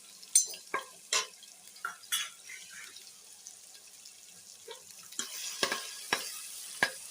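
Ginger and garlic fry in a pan: a soft background sizzle broken by scattered scraping stir strokes and clinks, fairly quiet and close, with no talking.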